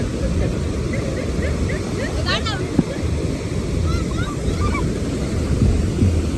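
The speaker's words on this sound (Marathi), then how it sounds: "समुद्र" Sea waves break on the Konkan shore at Vengurla during a Ganesh immersion. The broad wash of surf is loud and steady, with wind rumble and faint distant chirps.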